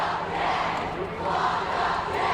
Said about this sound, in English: And you can hear that crowd picking up again.